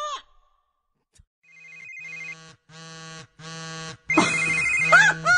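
A voice imitates a telephone ringtone in a comedy impression, with a short sung note, a pause, then several evenly spaced melodic bursts that grow louder and brighter toward the end.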